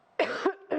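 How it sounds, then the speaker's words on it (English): A single harsh, close cough bursts out, followed by a brief second cough after a short gap. "Stupid cough, I'm ever so sorry."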